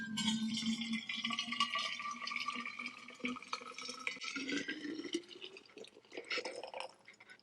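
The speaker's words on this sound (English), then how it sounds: "So I'll pour the water in." Hot water pours into a 64oz stainless steel vacuum-insulated bottle with a rising gurgle and splashing drips, fairly close and moderately quiet, continuing for several seconds.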